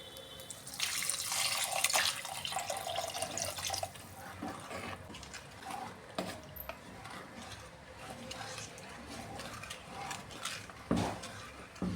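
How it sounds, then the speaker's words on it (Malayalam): Water is poured into a hot cooking pan of tomatoes for a mackerel fish curry, a close splashing rush with sizzling that settles into quieter bubbling and a few clinks. "ഇത് വേവാൻ ആവശ്യത്തിനുള്ള വെള്ളം ചേർത്ത് കൊടുക്കാമേ"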